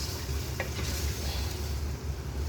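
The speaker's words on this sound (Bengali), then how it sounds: "পেঁয়াজ বেরেস্তা করা তেলের ভিতরে আমি মাংসটা দিয়ে দিলাম।" Marinated meat frying in oil with browned onions in a wok gives a dense, continuous low sizzle and hiss, close and steady, with one brief clink near the start and no talk.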